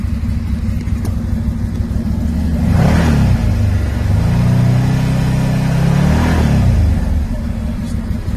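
Turbocharged engine of a 2021 Can-Am Maverick X3 with aftermarket exhaust, a loud close idle rumble swelling into two revs that rise and fall, about three seconds apart.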